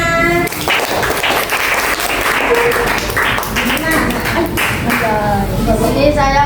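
Classroom applause from students during a school project presentation, a burst of clapping that runs under and alongside a teacher speaking nearby.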